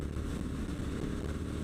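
A Triumph Street Scrambler's 900cc motorcycle engine works hard under load, a steady, dense, faint rumbling drone with no breaks.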